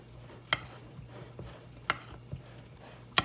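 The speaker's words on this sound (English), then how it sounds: "And just give it a little whisk." Pakora batter of chickpea flour with crushed chilies, coriander and baking soda being whisked in a bowl, heard as a few sharp, separate clinks and taps of the whisk against the bowl over quiet background.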